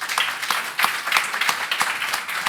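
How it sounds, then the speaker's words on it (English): An audience applauds panelists at the close of a forum session, with a steady, moderately loud round of clapping from many hands that lasts throughout. "let's just give our panelists a good round of applause."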